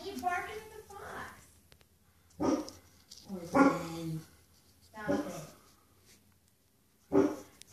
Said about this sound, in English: Why are you barking at the fox?